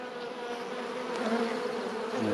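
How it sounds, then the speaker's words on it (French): Honeybees buzzing inside a hive opened in winter for oxalic acid varroa treatment, a close, continuous, agitated hum. "Je vois les abeilles. Oui, il y a du monde."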